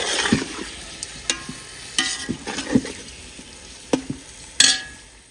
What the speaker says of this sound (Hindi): प्याज पहले ब्राउन हो चुके थे तो इसलिए मैंने जल्दी से इसमें चिकन शामिल कर दिया।